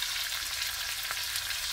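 Bacon fries over medium-low heat in a pan, giving an even, fairly quiet crackling hiss with tiny pops throughout and no voices.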